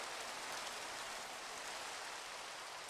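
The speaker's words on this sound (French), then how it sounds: "c'est juste la pluie elle s'arrête" Rain falls in the Minecraft video game as a steady, even, soft hiss of broadband noise, faint and unchanging throughout, with no voices or other sounds.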